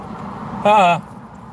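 A single short car horn honk, about a third of a second, sounds clearly over quiet background traffic noise.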